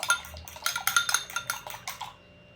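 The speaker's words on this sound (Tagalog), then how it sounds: "Scramble ko muna yung egg. 2 peraso." Two eggs being scrambled in a pan for a Shanghai-style stir-fry, heard as a quick run of about a dozen sharp, rhythmic metallic scrapes and clinks of a utensil against the pan, close up, before falling quiet.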